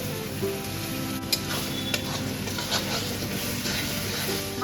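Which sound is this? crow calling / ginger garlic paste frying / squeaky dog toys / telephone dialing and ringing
ginger garlic paste frying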